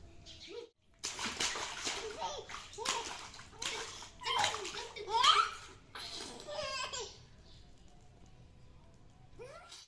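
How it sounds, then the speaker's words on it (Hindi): A baby splashes in bath water, slapping out bursts of splashes in an irregular rhythm, mixed with the child's squeals and laughter close by. "पानी में छप छप करने का बहुत ही मज़ा आता है"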